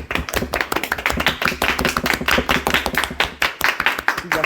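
A studio audience on a French television show claps to welcome a guest, producing loud, close, fast rhythmic clapping that swells and dips in waves and runs almost continuously.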